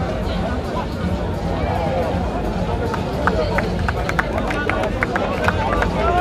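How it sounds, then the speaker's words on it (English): Crowd noise at the Safari7s rugby Main Cup final trophy celebration at RFUEA Grounds, a dense babble of voices with scattered claps and cheers growing sharper in the second half, with chatter mixed throughout. "round of applause from the dignitaries there"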